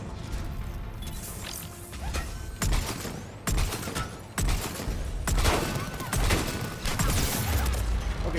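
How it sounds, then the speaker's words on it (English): Sci-fi shooter gunfire in Mass Effect 3, with the Grissom Academy mission: irregular bursts and sharp impacts stack up through the stretch, dense and loud, growing busier toward the end, with no speech over it. "Okay, who's firing at me?"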